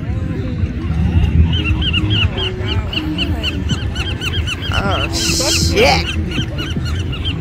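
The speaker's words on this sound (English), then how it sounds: "these birds are about to attack us" Seabirds on Venice Beach in California give loud, repeated honking squawks close by over steady surf and crowd noise, and a person speaks briefly among the calls.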